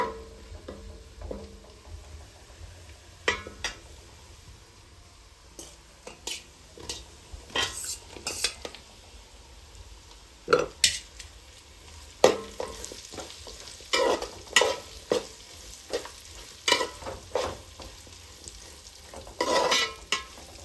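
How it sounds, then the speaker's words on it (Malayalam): Pickle ingredients with curry leaves being stirred and sautéed in hot oil in a pan, a steady soft sizzle broken by repeated sharp scrapes and clinks of a spoon against the metal pan, close up, with no talking. "പച്ചമണം മാറുന്നിടം വരെ നന്നായിട്ട് വഴറ്റുക"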